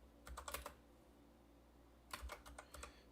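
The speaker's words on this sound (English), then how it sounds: "Oh, I'm typing this out" Keystrokes on a computer keyboard, typed in two short bursts of several clicks each with a quiet pause between, close and fairly soft, with no talking.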